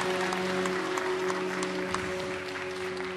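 An audience claps steadily and densely throughout at an inaugural evening event, a sustained wash of applause with a faint steady hum underneath and no speech.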